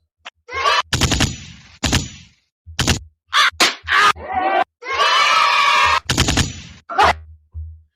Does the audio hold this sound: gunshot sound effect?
yes